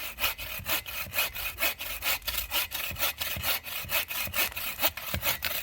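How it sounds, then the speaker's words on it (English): A hand saw cuts through timber for a shelter build in quick, regular rasping strokes, each back-and-forth pass loud and close, with no talk. "Anyway, this is me sawing."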